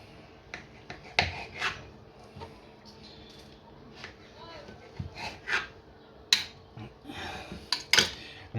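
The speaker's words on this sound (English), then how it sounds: "we're going to cut these nice and into strips" Knife cutting a foraged mushroom into strips on a board, heard as a series of irregular close taps and soft slicing scrapes with a faint background hum.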